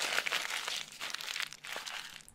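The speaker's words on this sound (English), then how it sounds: "Do I have to wait for you to finish crumpling it?" Newspaper being crumpled in the horror game Apartment 666, a close, dry crinkling and crunching that carries on in irregular bursts with no voices over it.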